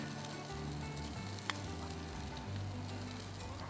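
Fresh grated coconut fries in a hot pan with curry leaves and chillies in a Kerala-style dish, a loud, steady sizzle that crackles throughout with one sharp tick from a utensil partway, and no voices.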